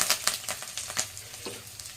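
Vadagam and curry leaves frying in hot oil for kuzhambu, a close crackling sizzle with quick popping spits and stirring clicks, no talking.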